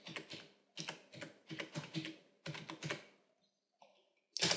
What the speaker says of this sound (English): hold down the Windows key, tap R, and type in notepad